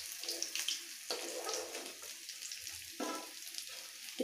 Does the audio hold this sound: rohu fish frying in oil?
yes